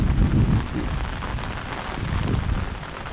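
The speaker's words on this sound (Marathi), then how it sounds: "गडगडतंय जोरात" Deep rumbling thunder rolls over steady rain during an April unseasonal storm in a Konkan village, loudest at the start and swelling again toward the end, with no voices.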